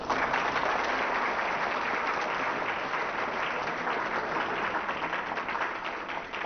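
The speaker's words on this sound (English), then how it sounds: "Let's clap for them now, too." An audience at a League of Women Voters legislative forum in Linn County, Iowa, gives the legislators a sustained round of applause, a steady, full roar of clapping that holds its level to the end.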